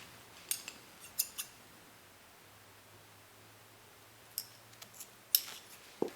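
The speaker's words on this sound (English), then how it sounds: "then I'll cut this yarn" Scissors snip through crochet yarn in a few brief, quiet cuts, grouped in two clusters with near silence between them and no talking.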